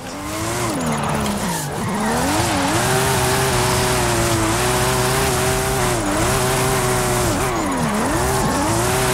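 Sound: car drifting with tire squeal in video game Forza Horizon 5

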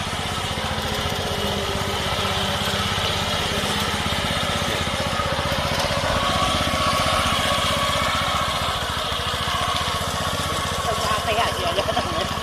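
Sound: walk-behind green mower with Mitsubishi engine cutting grass

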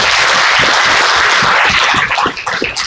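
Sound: applause

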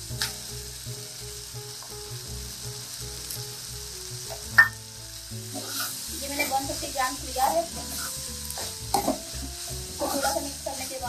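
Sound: stirring paneer and vegetables frying in a pan

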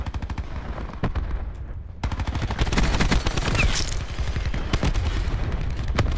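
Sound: gunfire from the Grav rifle in Black Ops 4 video game

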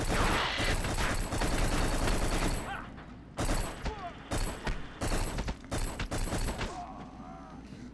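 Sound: gunfire from the video game Black

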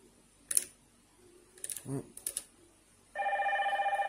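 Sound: Hikvision intercom preset doorbell ringtone playing

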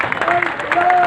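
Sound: crowd applause at farmers' protest

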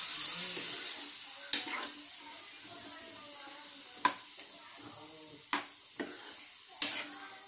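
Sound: cooked chickpeas stirred and sizzling in a pan

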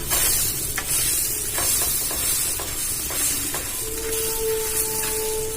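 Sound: batter frying on a griddle pan

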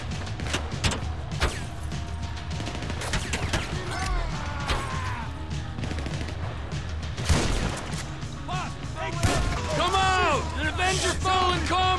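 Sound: shotgun gunfire in the video game GTA 5

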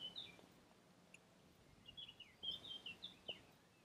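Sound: birds chirping

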